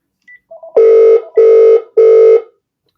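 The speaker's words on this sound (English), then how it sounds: "excuse that telephone ringing" Three loud, evenly spaced electronic rings from a business telephone, each burst lasting about half a second, preceded by a couple of faint short beeps, close and alone with no talk.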